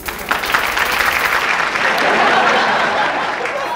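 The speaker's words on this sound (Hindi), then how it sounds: "इस बात पर तालियां हो जाए।" Audience at a comedy show breaks into loud, sustained applause, thick continuous clapping from a large crowd that holds steady throughout.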